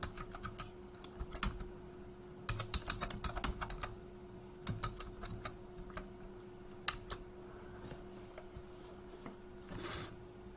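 Quick typing on a computer keyboard gives steady, close clicking in short bursts and pauses, entering tags for a Shopify store blog post over a quiet room hum.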